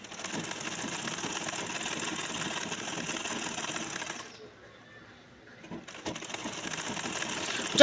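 A sewing machine stitching at a steady fast pace, its dense mechanical whir and needle clatter running loud and close. It pauses briefly, then resumes stitching.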